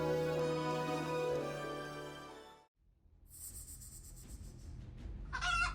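A chicken near a snake gives a long, drawn-out call and then breaks into scattered clucks against rough background noise, fairly close.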